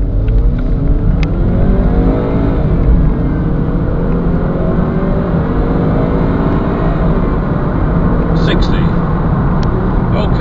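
A 2009 BMW 320i accelerating hard through a 0 to 60 run, its engine rising steadily in pitch through the gears with a loud, continuous in-cabin drone and road roar, a voice talking briefly over it.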